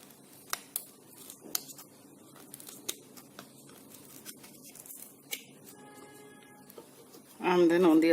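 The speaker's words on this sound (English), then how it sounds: "And then I'm going to cut this out." Scissors snip a hole through a craft strip for a handmade Janmashtami jhoola, a series of small sharp clicks and cuts close by, ending in a louder burst of rustling and a high tone.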